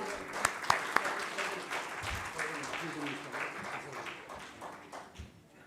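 Applause from the audience at the opening of a vegan festival in Nepal, a steady wash of clapping with a few sharp nearby claps early on, with voices talking under it.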